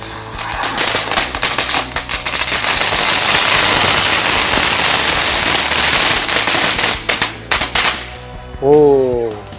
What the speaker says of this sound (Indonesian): Lanjut 2 pak mercon telur dino sekaligus.